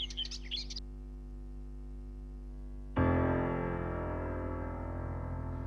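A stage sound effect of birds chirping plays during a school annual day drama, giving a brief burst of bright tweets at the start, then a steady hum and a louder sustained musical tone.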